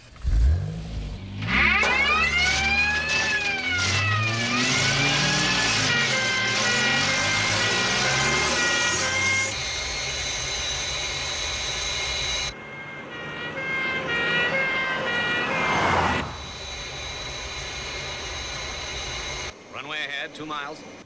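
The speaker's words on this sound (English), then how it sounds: "Stand by, crash tenders. Crash tenders to center of runway 29." Airport crash tenders head for the runway with sirens wailing, the rising and falling tones loud and close over engine noise. Radio voices speak throughout, and the sound changes abruptly as the scene cuts.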